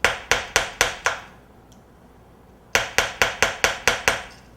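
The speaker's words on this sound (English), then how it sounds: "Hammer it down." Quick bursts of sharp hammer taps driving a cake-decorating piece down into styrofoam: five rapid strikes, a short pause, then seven more in a fast, steady rhythm.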